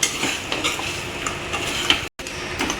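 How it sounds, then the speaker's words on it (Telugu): Chicken pieces being stirred into chicken pickle in a pan, short scraping and clinking strokes of a spoon over a low sizzle, close, with a brief cut to silence near the end. "ఇప్పుడు ముక్కలు అనేది కలుపుతున్నాను అనమాట"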